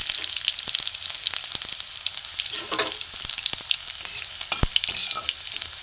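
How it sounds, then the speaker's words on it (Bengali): Chopped garlic and nigella seeds sizzle in hot oil in a pan, a steady, close, loud crackling fry with frequent sharp pops and light stirring scrapes throughout, no voices. "লাল করে রসুনটা ভেজে নেব।"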